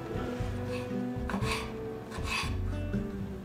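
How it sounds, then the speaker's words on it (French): Almonds being coarsely chopped with a knife on a board, heard as repeated close, scraping, rasping cuts with a steady rhythm and no voices. "Concassez grossièrement les amandes."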